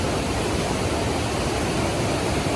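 Mae Ya Waterfall in Thailand, swollen by heavy rain, roars in a loud, unbroken rush of falling water heard up close with no other sounds.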